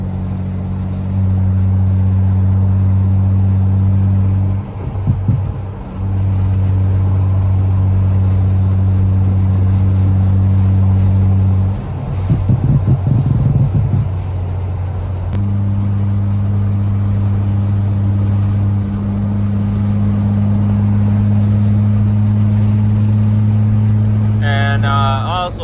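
A tuned BMW M535i running on E85 fuel gives a loud, steady engine drone from inside the car, with a brief swell of revving around the middle and a short burst of crackles near the end.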